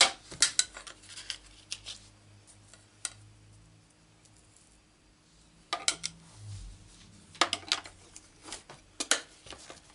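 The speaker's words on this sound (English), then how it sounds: "So let's cut this circle out." Scissors snip through paper while a circle is cut out for a Stampin' Up card, with short clusters of close, crisp cuts separated by quiet pauses.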